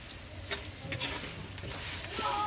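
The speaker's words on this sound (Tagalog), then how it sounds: "Ngayon, lagay na natin yung ating chicken. Ayan. 4 piece to ng breast chicken na hinimay-himay." Shredded chicken breast sizzling in butter with cooked onions in a big pot, continuous close frying hiss broken by a few sharp stirring clanks, no voices.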